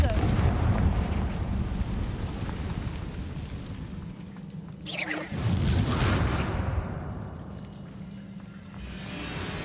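Confringo fire spell in the Hogwarts Legacy wizarding game: a whooshing fiery blast sweeps through mid-clip over a dense, rumbling roar of crackling and booming that fills the whole stretch.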